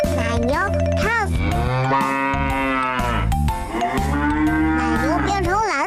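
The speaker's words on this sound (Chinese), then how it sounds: "奶牛 calf" A cartoon cow lets out long, drawn-out moos that rise and fall in pitch, loud and close with a tonal backing.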